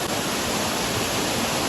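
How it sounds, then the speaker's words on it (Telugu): Penchupadu waterfall pours steadily with a dense, continuous rush of flowing water, loud and close, with no voices. "వచ్చేసినాం వాటర్ ఫాల్స్ దగ్గరికి. నీళ్ళు అయితే భలే వస్తున్నాయి ఈ పక్క, ఫుల్ నీళ్ళు."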